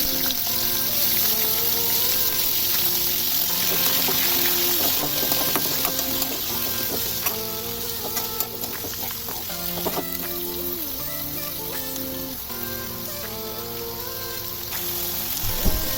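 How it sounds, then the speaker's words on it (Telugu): Tomatoes fry in hot oil in a pan with chana dal, cumin and green chillies for a cucumber-tomato chutney, giving a steady continuous sizzle with a tonal background running underneath. "ఇది వేగాక ఇందులోనే టమాటాస్ వేసి వేయించుకోవాలి"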